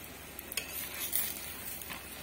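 Paratha cooking in ghee on a pan gives a faint, soft sizzle with a few light scraping stir sounds, quiet and close, no voices.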